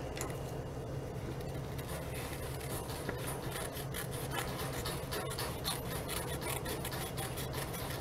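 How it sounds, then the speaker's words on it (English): Close, steady rasping and rubbing of a paper craft edge being trimmed for a button heart project, continuous and fairly loud throughout. "I'm going to trim that edge a little bit."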